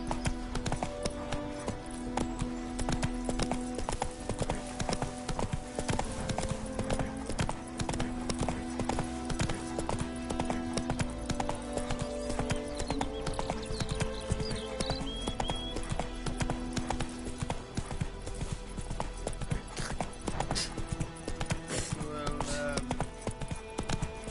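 A horse galloping in the Witcher 3 video game, with a steady rapid clip-clop of hooves running throughout, mixed with a dense game soundtrack and occasional whinnies.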